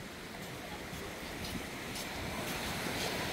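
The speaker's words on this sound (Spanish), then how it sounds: "el hecho de escuchar el mar" Sea waves wash against the shore beside a beach promenade in Marbella, a broad steady hiss of surf that swells slightly louder, with some wind, and no voices.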